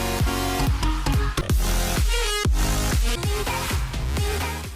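A wide, buzzy supersaw power-chord drop made in FL Studio Mobile hits loud and dense, with chords restruck in a steady pumping rhythm alongside punchy low kicks and a brief rising sweep.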